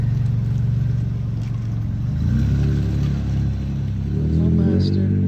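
A 2003 Toyota Tacoma Prerunner fitted with a Flowmaster exhaust pulls away, its engine rumble swelling as it accelerates, close by and fairly loud.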